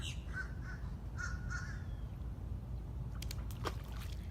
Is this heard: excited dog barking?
no